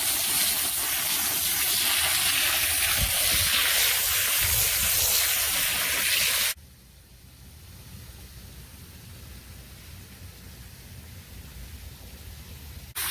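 Steady broadband rush of water spraying from a garden hose onto blueberry plantings, loud and close for several seconds, then cutting to a much quieter, softer trickle.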